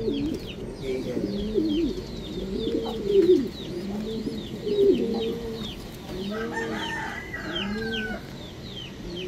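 Racing pigeons coo steadily at a loft after a hard 403 km race, a chorus of overlapping low rolling coos close by, with small chirps and rustling behind them.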